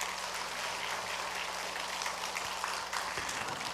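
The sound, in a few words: church congregation applause for a pastor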